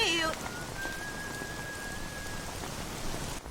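Steady rain falling on a dark night in a Korean film scene, a soft even hiss of drops on surfaces, with a thin whistle-like tone drifting through briefly.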